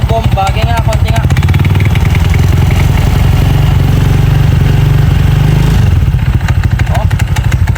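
A Honda Click 160 scooter engine with a ceramic pulley bushing runs close and loud with a rough, clattering pulse. A person talks over it briefly.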